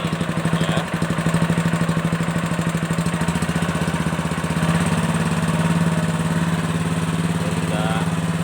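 An engine-powered grinder mills soaked soybeans for tofu in a village in Simeulue, Aceh, giving a steady, close, pulsing motor chug with a throbbing low drone that runs for the whole stretch.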